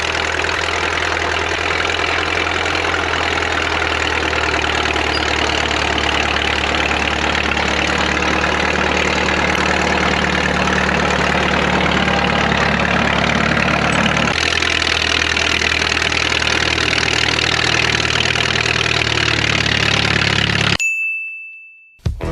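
A rebuilt Caterpillar D4 crawler tractor engine runs at a steady idle with a low, even rumble and a faint metallic ding, shifts tone partway through, then cuts off abruptly into silence.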